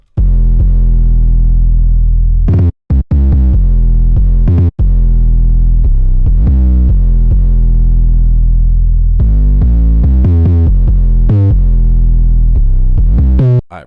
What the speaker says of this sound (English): the first 808 pattern sounds like this.